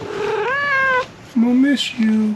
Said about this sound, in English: And you can hear my cat down there meowing away.